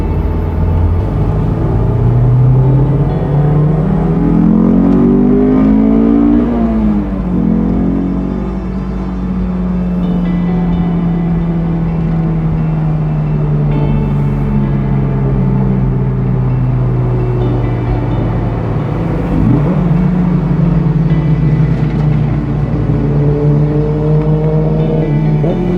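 A Honda S2000 sports car is driven at night, its engine droning close and steady with rising and falling revs as it accelerates and shifts, and nobody speaks over it.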